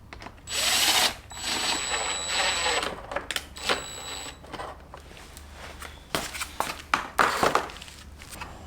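Power tool driving bolts into Honda CBR1000RR fairing pieces, with short whirring drill bursts followed by sharp clicks and plastic rattles up close, no voices heard.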